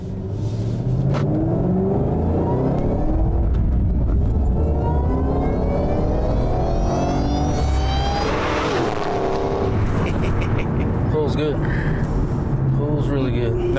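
A modified 2011 Ford Shelby GT500 pulls hard through the gears from inside the cabin, its engine note climbing in repeated sweeps with a deep rumble while people talk over it.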